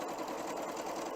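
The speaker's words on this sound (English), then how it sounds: "I've brought my 2 units here to the sewing machine, and I'm going to start sewing a scant 1/4 of an inch" A sewing machine stitching quilt units runs in a fast, even whirring rattle, close and steady throughout the short stretch, with no speech over it.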